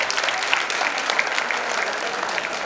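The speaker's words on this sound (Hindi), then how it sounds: "तो इनके लिए एक बार और ताली बजा दीजिए।" An audience applauds steadily at a Hindi-language national seminar, a dense, continuous clatter of clapping hands that stays loud and even throughout with no talk over it.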